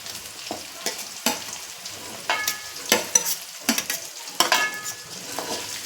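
Onions are tipped into a pan of frying potatoes for spicy Maggi rice, with bursts of sizzling and the scrape of stirring in irregular pulses, close and alone.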